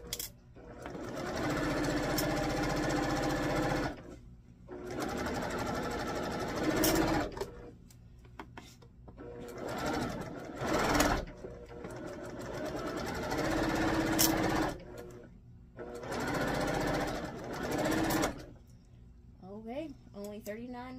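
Sewing machine stitching pinned pinwheel quilt blocks in several long bursts of steady rapid whirring, separated by brief pauses, loud and close.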